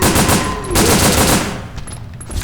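Gunfire in Resident Evil: Dead Aim, a loud close burst of rapid shots with a rattling low thump, twice in quick succession before fading into quieter game sound.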